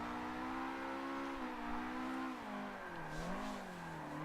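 A Nissan S15 drifting in Forza 7, its engine holding a steady high rev note that wavers and dips through transitions before climbing again, loud and continuous with no voices over it.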